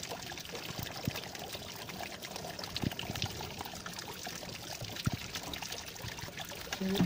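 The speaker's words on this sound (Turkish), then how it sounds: "Buradan bir de su ilave ediyorum." Water pours into a car radiator during an antifreeze change and engine block flush, a quiet steady trickle and splash with occasional clunks nearby.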